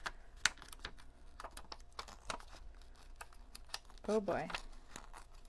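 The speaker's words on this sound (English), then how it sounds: "That's the fun thing about tearing." Paper for card making is torn by hand in short, crisp rips and crinkles, mostly quiet and close, with one louder tear near the end. A person briefly speaks.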